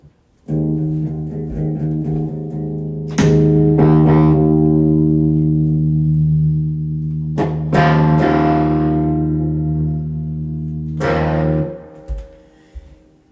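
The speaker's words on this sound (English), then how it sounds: "Not the most beautiful distortion ever" Heavily distorted electric guitar plays sustained, buzzing chords, with sharp attacks at a few points and a gritty, saturated tone throughout.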